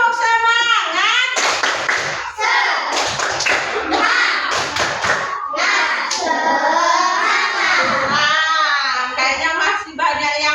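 Young first-grade pupils in a classroom doing a spirited clap chant together, loud sharp thumps and taps in quick rhythmic bursts mixed with excited children's voices and chanting throughout.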